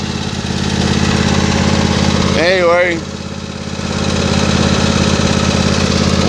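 Husqvarna YTA24V48 riding lawn mower engine, just restarted after a fuel problem and new spark plugs, idling with a steady loud drone that briefly dips, while someone speaks briefly over it.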